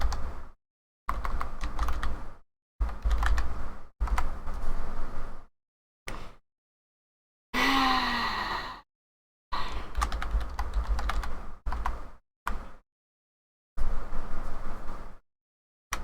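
Bursts of rapid keyboard typing, close and clear, broken by short pauses and one brief different noise in the middle; no talking.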